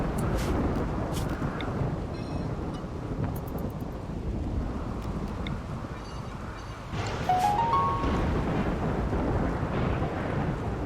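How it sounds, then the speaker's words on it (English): A rainy thunderstorm in the RimWorld video game fills the scene with a dense, constant wash of rain and low, rolling thunder rumble. The noise swells slightly louder toward the end, with no voices. "the chat voted for a big old thunderstorm"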